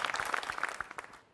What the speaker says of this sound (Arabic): زيدو صفقوا عليها